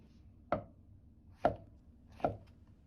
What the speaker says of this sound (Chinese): 接着來切杏鮑菇，先改刀切成段